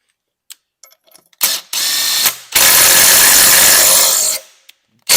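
A nut being run down on a Cummins engine cylinder head with a power tool, a few faint clicks, then two loud sustained whirring bursts of a second and about two seconds, close and harsh.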